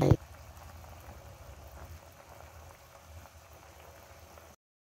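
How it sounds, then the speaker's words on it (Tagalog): A pot of pork sinigang broth with vegetables simmering, a soft steady bubbling that stays faint and close under a low hum for several seconds after a brief thump, then cutting out. "pakuluin natin saglit hanggang, hanggang maluto yung mga gulay"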